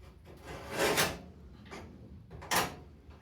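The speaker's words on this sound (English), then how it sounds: "Let's run a scribe down there and a scribe down here." A steel scribe scratches marking lines onto a body panel during front valance replacement on an Austin A30/A35 restoration, giving two close, rasping strokes about a second apart with a softer scrape between.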